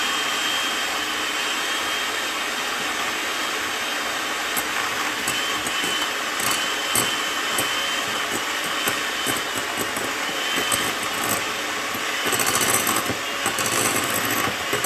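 A loud kitchen appliance, likely a food processor, chops butter for a keto cheesecake with a harsh, continuous whirring roar that runs throughout at close range, with brief rattling bursts near the end.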